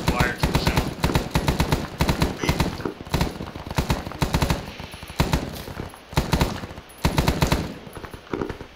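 Medium machine gun suppressive fire in a tactical video game, a near, loud, rapid stream of shots in long bursts with brief pauses, sometimes under radio chatter.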